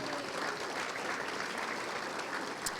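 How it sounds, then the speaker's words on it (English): Steady applause from an audience at the Rowan County Chamber of Commerce annual meeting, a dense wash of clapping held at an even level throughout, with no voices over it. "How about a big round of applause for them?"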